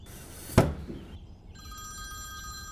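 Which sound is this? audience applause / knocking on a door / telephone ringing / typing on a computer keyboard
telephone ringing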